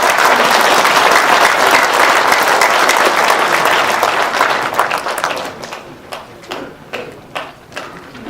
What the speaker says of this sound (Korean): 여러분 정말 뜨거운 박수 부탁드리겠습니다